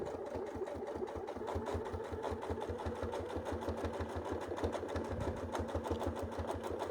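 A sewing machine runs steadily through free-motion quilting on fabric, its needle pounding in a fast, even rhythm of close, clear stitches with no pauses and no talking.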